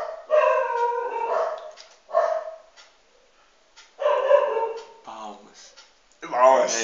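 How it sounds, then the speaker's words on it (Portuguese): A dog barks and yowls in several drawn-out, howling bursts at close range, with short pauses between them and a person speaking briefly. "pera aí, escuta o cachorro."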